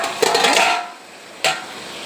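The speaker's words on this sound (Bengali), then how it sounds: "একটু নাড়াচাড়া দিয়ে দিই" Stirring onions frying in a pan, a short burst of scraping and sizzling followed by a quieter hiss and a second brief stir near the end, close and fairly soft, with no talking.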